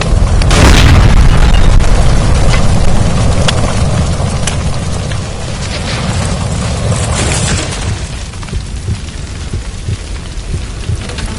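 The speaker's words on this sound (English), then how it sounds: "Shoot the gas line, Cole!" A gas line explosion in the video game L.A. Noire, a loud booming blast that opens abruptly and rolls into a long rumbling, crackling tail that slowly fades over several seconds.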